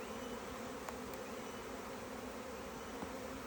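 Honey bees hum around an open Langstroth hive holding a few frames of honey, a steady faint drone of wings that runs evenly throughout with no talking.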